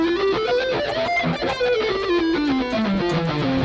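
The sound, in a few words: guitar scale played sloppily across six strings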